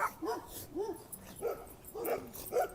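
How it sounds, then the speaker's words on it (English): Dogs bark in a string of about five short, sharp barks and yips at an uneven pace. They are fairly close and stand out clearly against a quiet background. "Look at all these dogs."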